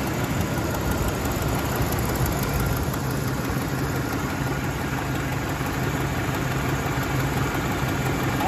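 A Chevrolet Silverado idles with a leaking exhaust and broken exhaust studs. The engine drones loudly and continuously nearby, with a steady rough rumble throughout and no talking.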